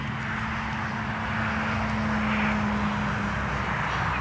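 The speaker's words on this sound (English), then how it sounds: "Oh, I love this airplane." An RC airplane flying overhead at a model flying field, a loud steady engine or ducted-fan whine with a sustained tone that swells slightly as it passes.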